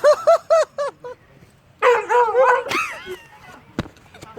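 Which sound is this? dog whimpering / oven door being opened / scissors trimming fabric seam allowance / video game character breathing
dog whimpering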